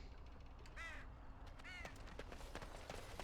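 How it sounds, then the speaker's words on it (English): Raven cawing in the fantasy video game Dragon Age: Origins, two distinct harsh croaking calls close together over a steady background ambience, with further faint clicks and noises after. "There's the raven here"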